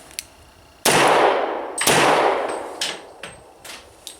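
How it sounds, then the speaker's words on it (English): Two loud, sharp pistol shots from a Beretta 96 Brigadier Elite II, each followed by a long ringing reverberant tail, then several fainter clinks and taps as the gun is handled, with no talking. "I'm really having no problem whatsoever shooting the gun."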